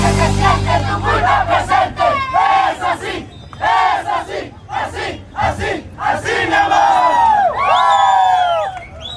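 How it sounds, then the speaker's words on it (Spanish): A large crowd cheers and shouts loudly throughout a Bolivian folk dance performance in Quillacollo, with many overlapping voices whooping and calling out in steady waves. "Fuertes los aplausos, señores."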